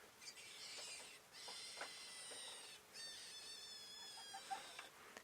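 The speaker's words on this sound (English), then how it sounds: "Here's the sound of a screaming rabbit who doesn't like being picked up." Recorded rabbit screaming as it is picked up: three long, shrill, wavering cries with brief gaps between them, loud and close, followed by faint scuffling at the end.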